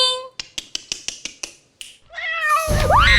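About eight sharp, evenly spaced taps lead into a cat's drawn-out meows in a room, loud and close, the last one rising and wavering in pitch.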